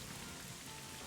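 Rain from the Rain Dance move in Pokemon Scarlet & Violet patters as a soft, steady hiss of falling drops, faint and uniform throughout the short stretch.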